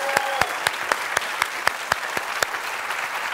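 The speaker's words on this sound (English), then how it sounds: "Give a round of applause." At a music and magic stage show, sparse, steady clapping is heard, with roughly a dozen sharp, evenly spaced claps over a quiet room background.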